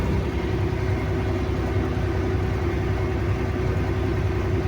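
A small farm tractor idling in a shed, a loud, steady low engine rumble that holds constant throughout with no voices.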